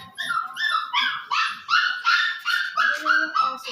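A small house dog, a white boy, barks in a quick run of about nine sharp, high, evenly spaced yaps, loud and close with nothing else over it.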